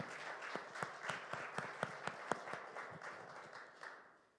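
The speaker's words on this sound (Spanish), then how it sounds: "con un fuerte, fuerte aplauso para ellos" A church congregation gives a faint, fairly distant round of applause during a Sunday service, with clapping in a loose rhythm that fades out toward the end.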